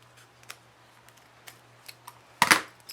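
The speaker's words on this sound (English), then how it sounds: "you're gonna cut it where the metal piece is, and you're gonna cut this part here" Scissors cut through a fabric bag's zipper at its metal piece: one crisp, loud snip close by, after a few faint ticks of handling and quiet room tone. No one speaks.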